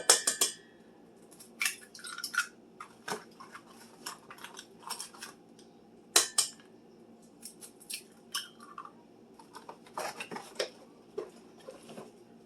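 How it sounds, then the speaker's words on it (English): Three eggs cracked into cake batter for a blueberry bundt coffee cake, heard as sharp, quiet clicks and taps of shell against a bowl, scattered irregularly across a faint, otherwise hushed kitchen background. "I'm going to add 3 eggs."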